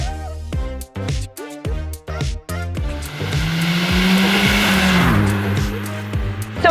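An Imperial Blue 1990s Ford Escort Cosworth revs hard through several quick gear changes, then roars past with a broad rush of engine and tyre noise, loud and close.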